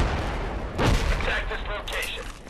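Mortar rounds landing in Project Reality on a desert map, a deep booming impact near the middle with rumbling, gunfire-like noise around it, a voice talking over the battle.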